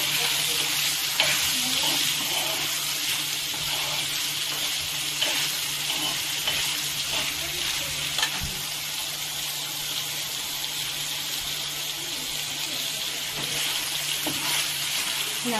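Food frying in a pan and stirred with a wooden spoon, a loud continuous sizzle with scraping strokes and occasional knocks, close and steady, with no talking.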